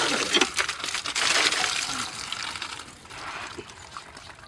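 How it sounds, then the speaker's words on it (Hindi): Cut radishes, leaves removed, being rinsed under running water, a steady trickling and splashing stream heard close by, alone and without talk. "अब इसको बढ़िया से धो देते हैं।"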